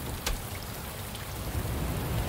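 Rain falls steadily in the video game Shadows of Doubt, a continuous wash of hiss and patter with a few sharper drops, heard alone without voices.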